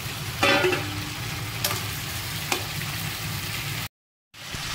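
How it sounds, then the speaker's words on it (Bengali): Potatoes frying in a pan alongside young jackfruit in a home kitchen: a continuous hiss and crackle with a few scraping stirs, close up, briefly cutting out to silence near the end, no voices. "ভাজা করে আলুটা দিয়ে দিলাম।"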